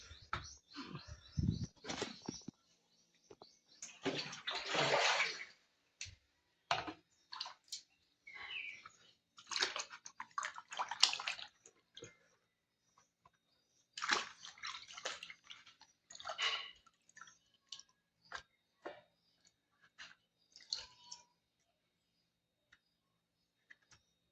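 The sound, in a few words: washing a pan with running water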